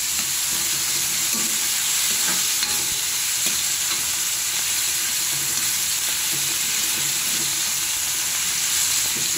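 Garlic fries and sizzles hard in a hot pan until it burns, a steady dense crackle with occasional stirring scrapes and no voices.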